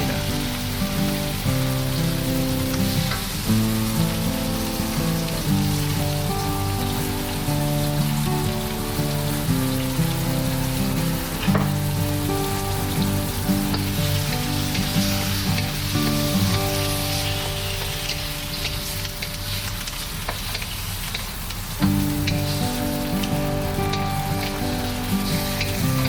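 Chicken and garlic sauté in a pan for traditional chicken adobo, a steady, loud sizzle and crackle running throughout with a low hum underneath, no talking.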